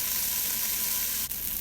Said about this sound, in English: So now I have the brown rice. I'm going to be frying it for a few minutes.